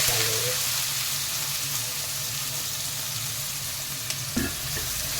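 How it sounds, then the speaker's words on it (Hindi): Onion frying in hot oil with garam masala, a dense, continuous sizzling hiss close by, with a low hum beneath and a small knock near the end. "प्याज को हम अच्छे से भून लेंगे।"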